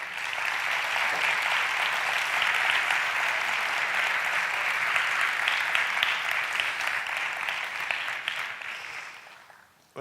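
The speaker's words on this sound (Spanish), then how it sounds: "Un fuerte aplauso" Audience at a talk event giving a strong, sustained round of applause, dense clapping holding steady for several seconds before tapering off toward the end.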